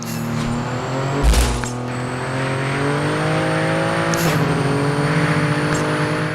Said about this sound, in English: so this is a rear-wheel drive car, so this is how it feels for rear-wheel drive